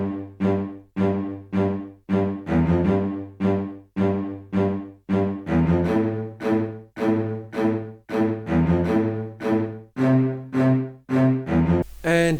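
Cello bass sample played rhythmically in a brass-heavy beat, short punchy repeated bowed notes in a steady pulsing pattern, loud and close, with brass-like chords layered in and no speech.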